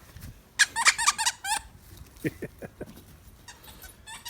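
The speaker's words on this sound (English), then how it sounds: "I can hear squeaking, so that means it must be playtime." A pet squeaks at playtime indoors: a loud, close burst of rapid high squeaks, then a string of shorter squeals that fade to faint chirps toward the end.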